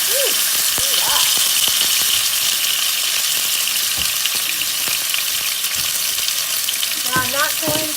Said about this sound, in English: So now I'm going to sear the pork.